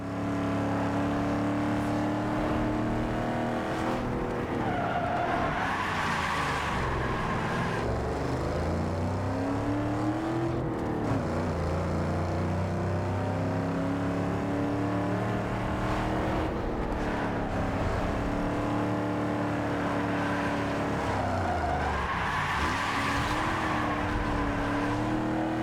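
A Lincoln Navigator SUV races in Need for Speed Underground 2, its engine droning and rising and falling steadily through gear changes, with occasional tire skids over a continuous loud roar and no talk.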